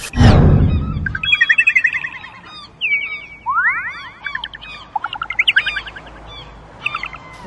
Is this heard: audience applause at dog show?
no